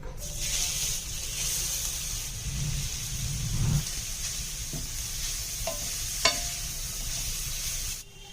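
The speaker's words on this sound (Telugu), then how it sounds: "మంచిగా నెయ్యిలో ఫ్రై చేసుకోవాలి మనము." Grated carrot fries in hot ghee for carrot halwa, a steady sizzle with stirring scrapes and a couple of sharp clinks before the sound cuts off.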